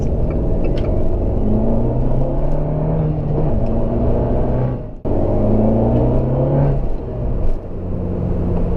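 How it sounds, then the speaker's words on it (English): An Abarth 695 Esseesse engine heard from inside the car while shifting through the gears. It holds a loud, steady rumbling drone, drops sharply at one shift, then pulls up again with rising revs. "And just going through the gears with this lovely carbon shifter knob"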